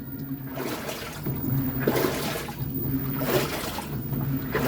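Water draining from an LG Inverter WT-1385TH coin-operated washing machine overfilled with laundry, a steady near gushing rush with a few louder surges.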